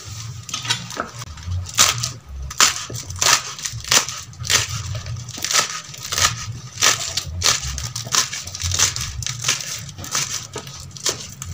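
Papaya leaves crushed by hand in a pounding vessel for an organic plant pesticide, a steady series of close, loud crunching strikes about twice a second with a woody, slightly clattering edge.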